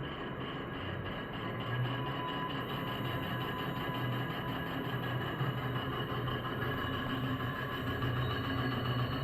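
A BLDC electric hub motor on a vehicle training bench runs at a steady speed, giving a constant faint hum with a high whine and no pauses or voices.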